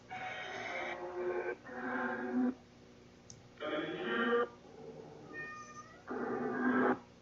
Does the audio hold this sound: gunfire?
no